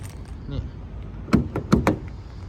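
The door handle of a locked 2022 Isuzu MU-X is tugged, giving a quick series of close, dull clunks and rattles as the latch refuses to release, with a person talking nearby.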